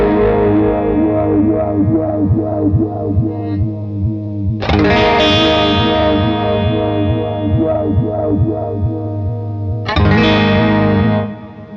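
Electric guitar run through a Walrus Audio Lillian phaser pedal set fully wet, playing loud sustained chords with a deep sweeping phase swirl; new strums land around the middle and again near the end.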